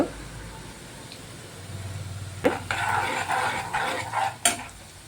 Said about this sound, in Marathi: आता हे छान असं परतून घ्यायचं एक एक दोन मिनटं